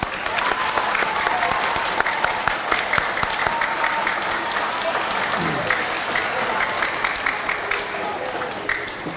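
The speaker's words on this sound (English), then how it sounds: "Let's give our graduates one more round of applause." An audience at an elementary school D.A.R.E. graduation claps steadily for the graduates, a dense, sustained round of applause filling the room from start to finish with a few voices faintly underneath.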